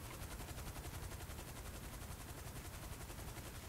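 Rapid automatic gunfire from a shootout in GTA 5 Online on Xbox One: a dense, steady rattle of shots runs loud and continuous for the whole stretch, with no pauses and no voices.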